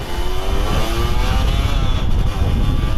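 A Yamaha 125Z two-stroke moped-style motorcycle with a stock exhaust runs continuously, its engine buzzing loud and near with slight rises in pitch as it revs.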